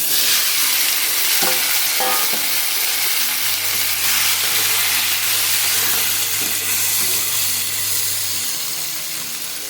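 Tomatoes fry in a pan for an Odia no-onion, no-garlic lunch thali, with a loud, steady sizzle and hiss close up and a few soft scraping stirs of a spoon.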